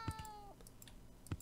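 A cat meows once, a clear falling tone standing alone against a quiet background with a few faint taps around it.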